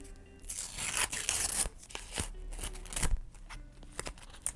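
Paper surprise packet with a frog on it being torn open by hand, a series of crisp ripping and crinkling bursts, close and moderately quiet, with no talking.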